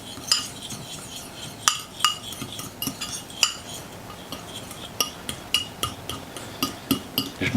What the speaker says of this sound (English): We'll get this mixed up good and combined